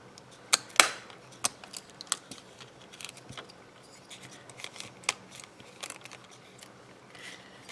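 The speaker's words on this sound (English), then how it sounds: "I'm going to just put my punch back into those indents and punch" A hand paper punch snaps through a cellophane treat bag, a few sharp close clicks scattered among softer rustling and handling noises.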